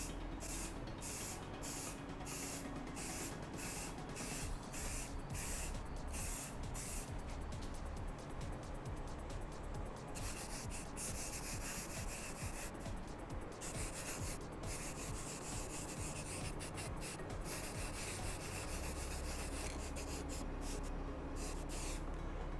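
Spray paint applied in light coats to a Boba Fett vambrace, a continuous close hiss of the can running throughout, broken by short rhythmic pauses between passes, with no talking.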